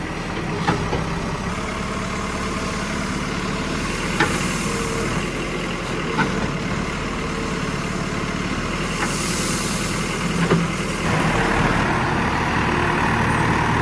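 A JCB's diesel engine idles steadily on a narrow road, a low continuous rumble with a few faint clicks and knocks scattered through it.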